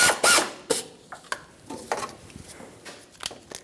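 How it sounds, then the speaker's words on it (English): A hand ratchet clicks in short irregular strokes while a 12 mm socket tightens the top alternator bolt on a 1995-2004 Toyota Tacoma 2.4L four-cylinder, with close, dry metallic ticks and brief pauses between strokes. "Get a 12 millimeter on that top bolt and tighten it up."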